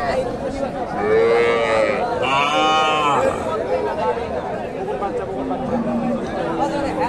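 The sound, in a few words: cow mooing at cattle market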